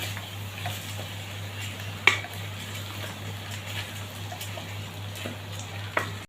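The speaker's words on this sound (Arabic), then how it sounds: "لازم تبدأي تقلبيه 5 دقايق كده مع السمنة والزبدة اللي احنا حاطينها والزيت" Rice frying in ghee, butter and oil is stirred in a pan, giving a soft, steady sizzle with a few sharp spoon taps and scrapes over a low hum. Nobody speaks.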